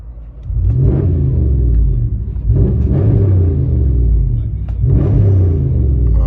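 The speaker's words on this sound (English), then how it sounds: "we just did a muffler delete on it" A deep, loud 5.7L HEMI V8 rumble heard from inside the cab of a 2018 Dodge Ram with dual exhaust and muffler delete, pulsing with revs in a few swells, throaty exhaust drone throughout.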